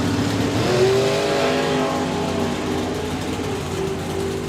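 Drag racing car launching and accelerating at a drag strip event, a loud engine roar rising in pitch as it pulls away, then a steady high-revving tone fading slightly toward the end.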